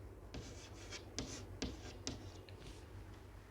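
A pen writes numbers on paper in quick scratchy strokes, with several short bursts and taps of the pen against the page, close and clear with no talking.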